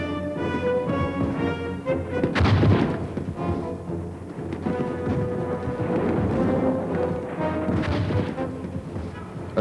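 Korean War artillery crew firing their gun, with heavy booming blasts over rumbling background noise and a dramatic music bed, the strongest report landing a couple of seconds in and another near the end.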